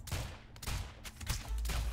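Homing stun bullets fire in the video game Rounds as a rapid volley of gunshots, dense and close. The bursts run through a short two-second stretch and swell into a heavy low rumble at the end.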